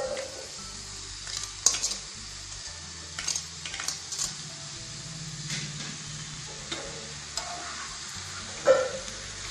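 Amaranth greens go into a sizzling pan of tempering for a South Indian palya and get stirred. A low steady sizzle runs under scattered scrapes and clinks of a spoon against the pan.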